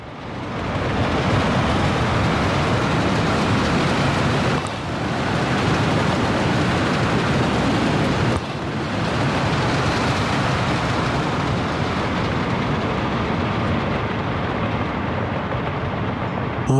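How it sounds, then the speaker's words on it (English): Train rolling along rail track in the city-building game Workers & Resources: Soviet Republic, a steady, loud rumble of wheels and wagons that continues throughout with brief dips, no voices. "That train is heading to a country far away."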